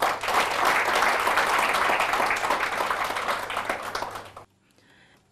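An audience claps loudly and steadily for about four seconds, then the applause cuts off abruptly into near silence.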